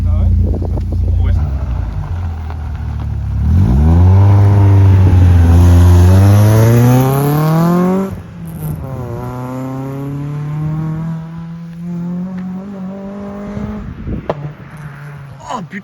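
A 140-horsepower Peugeot 106 S16 on a road test, heard loud and close from inside: the engine revs climb steeply through the gears with clear shifts between pulls, under steady wind noise.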